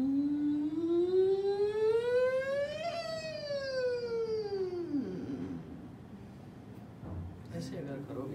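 A voice imitates a factory siren, one long tone sliding steadily upward, peaking, then falling away over about five seconds during a voice-training lesson, followed by a short pause and a brief sound near the end.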